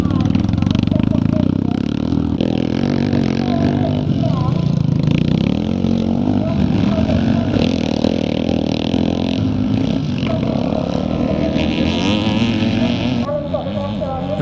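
Pre-1975 over-250cc vintage scramble motorcycles, including a CCM, racing on the Kendal Classic Revival circuit, with a loud continuous engine roar under a race commentator who talks throughout.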